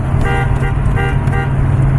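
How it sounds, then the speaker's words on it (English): A car horn honks in four short repeated beeps over a loud, boomy rumble of driving through an enclosed tunnel. "Gotta do the honking in the tunnel."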